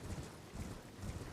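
Horse hooves clip-clopping in the video game Elden Ring, a quick rhythmic series of muffled hoofbeats under wind-like rushing noise.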